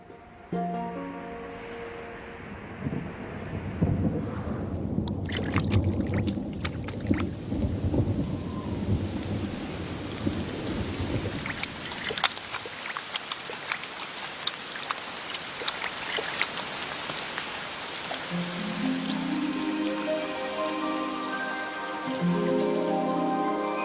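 Thunderstorm over the Kalahari in South Africa: steady rain on the ground with rolling rumbles of thunder and scattered sharp cracks, loud and continuous, while music plays faintly at the start and the end.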